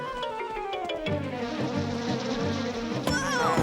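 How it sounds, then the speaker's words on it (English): A honeybee buzzes in an animated children's science show, a continuous close hum running the whole time over light background music and effects. "Where there's a honeybee, there's bound to be a hive."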